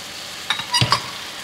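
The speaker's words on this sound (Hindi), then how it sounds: "अब इसको हम इसमें डाल देंगे सरसों का साग" Mustard greens tipped into a pan of tomatoes softening over the heat, a brief rustling plop and stir with a soft sizzle, close and short against a quiet hiss of frying.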